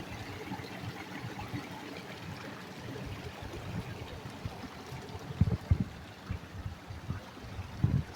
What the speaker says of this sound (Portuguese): Essa parte aqui tá descendo bastante água.